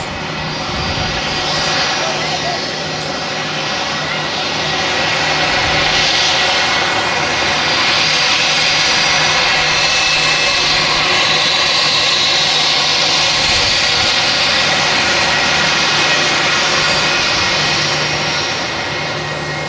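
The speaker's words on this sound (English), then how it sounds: "into Manchester now is a Wamos Air A330-200" A Wamos Air Airbus A330-200 jet arrives at Manchester Airport, its engines producing a loud, steady roar that swells and holds across the whole stretch, with faint background voices.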